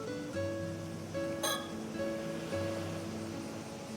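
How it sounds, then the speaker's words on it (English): Ocean waves wash steadily through a summer scene in Paranormasight: The Mermaid's Curse, under soft sustained tonal music with a brief bright chime partway through. Cicadas are not clearly distinct. "Sound of the waves and cicadas surround us."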